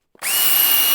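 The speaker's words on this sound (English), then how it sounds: "I'm going to drill this out" Power drill boring a hole in wood while restoring a family library table, starting abruptly after brief silence and whining at a steady high pitch, loud and close.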